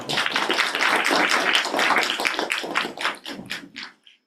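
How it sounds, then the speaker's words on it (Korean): An audience at a university graduate school admissions information session claps to welcome a professor, a dense burst of applause that thins into scattered claps and fades out after about four seconds. "네, 그 다음 이정미 교수님 큰 박수로 환영해 주세요."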